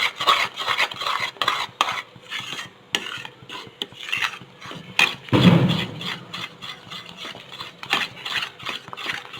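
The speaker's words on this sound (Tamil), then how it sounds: "இதே மாதிரி கலரிக்கிட்டே இருக்கணும்." A spoon stirs and scrapes Mysore Pak mixture with ghee in a pan, close and rhythmic, with repeated scraping strokes and a heavier clatter midway.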